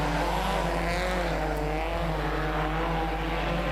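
Stock cars racing on a track at a regional border stockcar race, a continuous loud engine roar with droning tones that shift slightly in pitch, steady throughout without talk.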